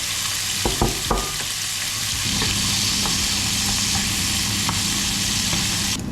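Bacon strips fry in a pan with a loud, steady close sizzle, a few utensil knocks at the start before the crackle settles into a continuous hiss.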